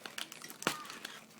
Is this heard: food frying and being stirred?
no